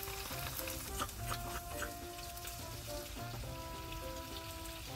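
Shrimp and garlic frying in a pan on a gas stove at a cold-weather camp, a steady close crackling sizzle with scattered pops and spatters throughout, alone without talk.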